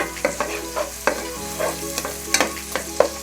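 Ginger and garlic frying in a pan for keema chole masala, stirred with a quick series of close, distinct scraping strokes over a steady sizzle.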